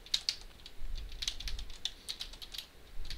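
Quiet keystrokes on a computer keyboard while editing text in vim, a quick irregular run of separate clicks, fairly close and without speech.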